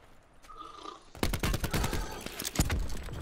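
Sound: cluster grenade explosions in Call of Duty Blackout video game

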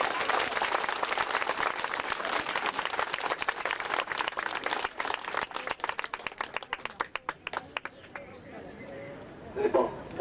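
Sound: warm applause from the audience

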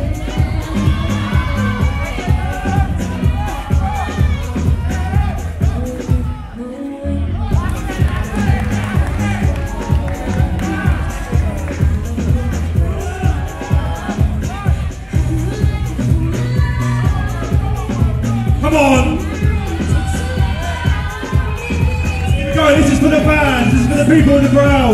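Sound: crowd noise at bodybuilding contest

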